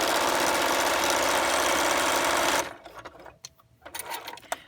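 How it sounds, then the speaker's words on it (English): A sewing machine runs a dense, steady, fast stitching whir while back stitching elastic onto a pleated three-layer cotton mask, close and loud, then stops abruptly partway through, followed by quieter handling clicks and rustles. "give a nice, a lot of back stitching here, just to really secure it"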